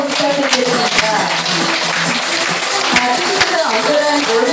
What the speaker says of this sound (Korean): 우리 일반 주부분들 격려의 박수 한번 부탁드리겠습니다